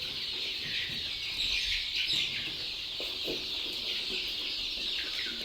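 Country chickens of the pure gavran breed cluck and chirp together inside a poultry shed, a dense, steady chatter of many birds with occasional louder squawks, moderately close.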